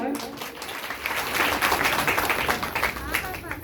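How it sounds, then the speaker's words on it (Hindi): Audience at a motivational talk breaks into applause, a dense steady patter of many hands that swells after the first second and holds, with a voice faintly audible under it. "एक बार तालियां हो जाए।"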